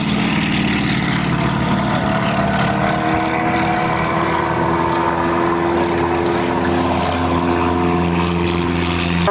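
A propeller aircraft that first flew in 1996 and long held a time-to-climb record to 3,000 meters, flying at a 1997 air show in Abbeyshrule; its loud, steady engine drone with layered tones carries without a break.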